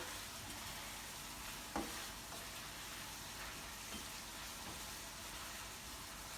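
Sliders frying in a pan give a faint, steady sizzle and hiss, with a couple of soft clicks as they are pushed to the center, no talking.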